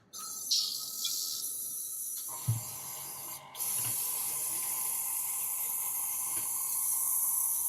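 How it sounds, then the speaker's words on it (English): An airbrush is flushed and cleaned out, giving a steady close hiss of spraying that starts after a few short bursts and runs on continuously. "I'm going to clean out the airbrush, of course, first."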